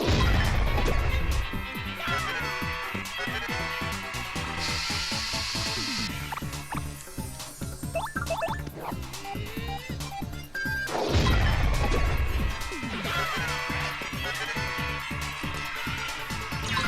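Heavy crashing smashes from the Quake Hammer in Paper Mario TTYD ring out over busy game music, with a loud thud at the start and another impact partway through.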